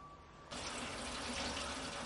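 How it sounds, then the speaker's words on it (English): Diesel fuel pours into the tank of a Sealey wheeled space heater, starting abruptly as a soft, steady liquid gush that carries on quietly for a couple of seconds. "Pour fuel into the heater tank until the gauge reads full."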